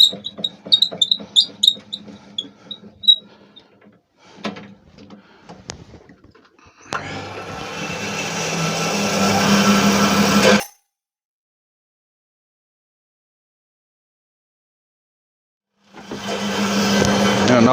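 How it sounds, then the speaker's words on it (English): A bandsaw cutting through a badly checked wooden log: a few scattered knocks and clicks, then a loud sustained rasping buzz of the blade for about four seconds, silence, then the cutting starts again near the end. "I'm going to cut that out on the bandsaw"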